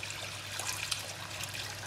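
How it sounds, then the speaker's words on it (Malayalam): Water is poured into a cooking pot for a king fish biryani, a steady soft trickling wash that runs continuously at low level. "അപ്പോൾ നമുക്കിതിലേക്ക് വെള്ളം ഒഴിച്ചു കൊടുക്കുക."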